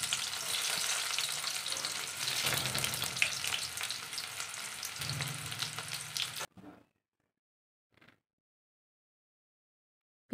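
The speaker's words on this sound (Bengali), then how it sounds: "তেলটা গরম হয়ে গেছে, পেঁয়াজগুলো দিয়ে দিলাম" Onions sizzle and crackle in hot oil in a wok, a dense steady frying hiss for several seconds that cuts off abruptly, followed by near silence with a couple of faint brief clatters.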